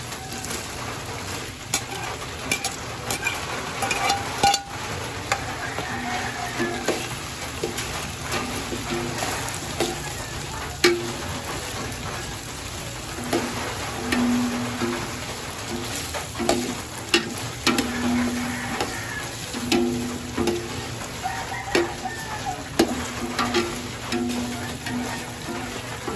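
Hotdogs sizzle and crackle steadily in hot oil, a close, continuous frying hiss with occasional pops and stirring clinks, no talking.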